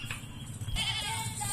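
Teddy Barbari goats bleating at a goat sale, short nasal calls over a steady noisy farmyard background, the bleats fairly close and moderately loud.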